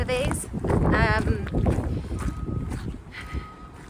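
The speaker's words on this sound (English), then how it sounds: "It's a bit blustery up here" Blustery wind buffets a microphone on a high outdoor spot, a steady low rumble under a voice talking throughout.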